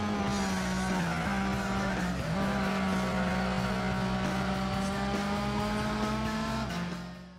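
A racing car engine in Gran Turismo 4 on the PS2 holds a loud, steady high drone, dipping briefly as it shifts gears and then climbing again before fading at the end.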